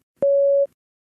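A single steady electronic beep, clean and moderately loud, lasting about half a second with nothing else around it, used as a prompt signal in a spoken English test.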